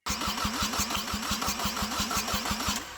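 An engine with strong compression cranks over in a fast, even rhythm for about three seconds, loud and close, without catching.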